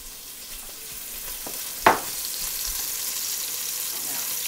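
Spices sizzling in a hot pan for an Indian potato pulao, a steady broadband fry hiss throughout with one sharp louder crackle or stir clatter near the middle, no talking.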